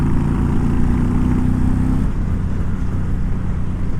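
A 2020 Indian Challenger Darkhorse motorcycle engine drones loud and close at highway speed in sixth gear under steady wind rush, its deep tone easing and dropping about halfway through.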